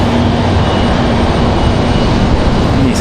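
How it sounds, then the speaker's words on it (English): Airbus A319 airliner swinging around at RDU Raleigh-Durham airport in gusty wind, a loud, steady jet roar and whine filling the air with no voices. "Swinging that A319 around a little bit there."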